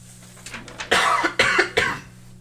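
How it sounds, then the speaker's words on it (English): A string of harsh, rasping coughs from a smoker, close by, several bursts in quick succession after a quieter start. "That was the specter coughing."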